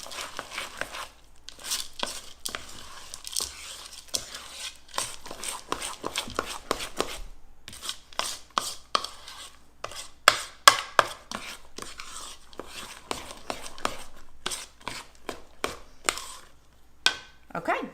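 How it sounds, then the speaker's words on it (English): A spoon works chocolate chips into thick chocolate cake batter in a bowl, making close, irregular scrapes, knocks and squelchy clicks in uneven bursts with brief pauses between strokes. "And you're going to stir those in by hand."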